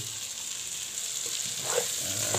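A potato and egg mixture is stirred in hot oil in a pan, a steady bright sizzle with soft scraping of the utensil underneath, close and continuous.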